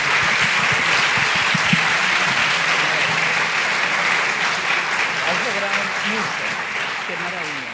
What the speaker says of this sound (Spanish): les demos un aplauso o se den un aplauso por este logro